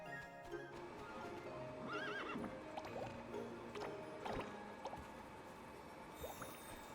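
Horses on a farm in the video game Starsand Island whinny in a clear rising-falling neigh, with soft clip-clop hoof steps and a light watery background, faint overall.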